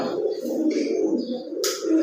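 Low, rolling coos from an emaciated, very thin pigeon continue steadily throughout, close by, with a brief rustle near the end.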